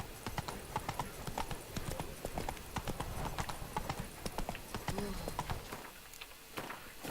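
A horse in the Witcher 3 video game gallops, its hooves beating a fast, even clip-clop throughout with a faint whinny partway through.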